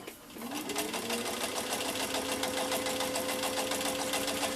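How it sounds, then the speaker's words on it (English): A Singer 1591 electric sewing machine runs steadily under foot-pedal control, a motor whine that rises at the start and then holds an even, rapid stitching chatter throughout, close and clear with no talk. "So we'll go ahead and step on the foot pedal and let's sew a little bit."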